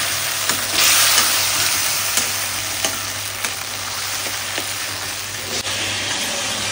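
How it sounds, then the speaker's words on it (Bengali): Spice paste being sautéed for a tilapia fish curry with turmeric and salt, a steady close sizzle of frying in oil, broken by soft periodic scrapes and taps of a stirring spoon. "এবার মশলাটা কষাবো।"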